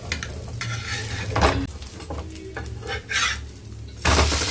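A moringa leaf dosa sizzles on a hot pan while a spatula scrapes and clinks against the metal during flipping, in short bursts over a steady frying hiss.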